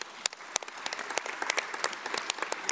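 Conference delegates at the Sixth World Conference of Speakers of Parliament break into brisk applause as a high-level declaration is adopted. Many hands clap sharply and continuously, moderately close, with no voices over it.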